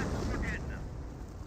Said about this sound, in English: Mortar half-tracks firing away.